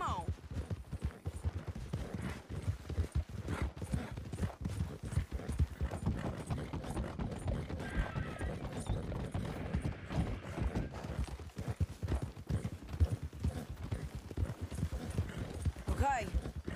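Horse hooves clip-clop steadily through the Red Dead Redemption 2 game, a quiet, continuous rhythmic trot beneath ambient game sound with occasional voices.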